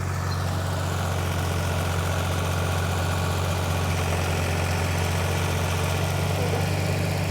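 Compact tractor with worn tires pushing a landscape rake through wet sand, its engine a steady low drone with a strong, even hum and constant mechanical vibration, close and unbroken, with no voices.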